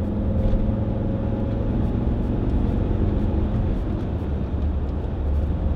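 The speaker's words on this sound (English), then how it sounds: "Engine sounds nice." A Volvo XC60 2.4 D5 SE Lux diesel SUV engine drones steadily while driving on the road, a continuous low rumble with road noise and no talking.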